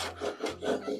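A handsaw scoring a block of clear cocktail ice, giving three or four close, rasping back-and-forth strokes with a steady rhythm and no talk.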